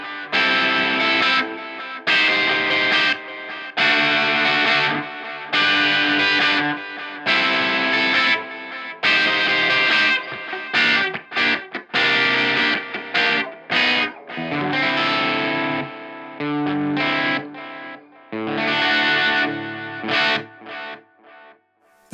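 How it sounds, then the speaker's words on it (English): Electric guitar through a delay effect, played in distorted chord bursts and short stabs with gaps between phrases, loud and close with no talking. "We can put some delay on this."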